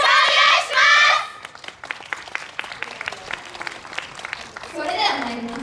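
An outdoor crowd at a street venue of a yosakoi dance festival claps along in a rhythm of sharp, scattered hand claps. A voice speaks before the clapping begins and again as it continues.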